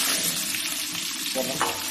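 Small onions (shallots) fry in oil for a fish curry, crackling in a steady close sizzle, with a short scrape of stirring near the end.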